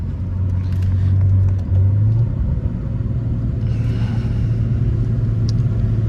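A BMW F30 335i with the N55 engine on an MHD Stage 2 E30 blend tune pulls through low gears in sport shifting, a deep steady engine drone inside the cabin with a brief dip at a shift, no talk.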